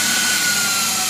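A Swiwin model jet turbine's starter spins up with a steady high-pitched whine and broad hiss, constant and close for about a second without any voices.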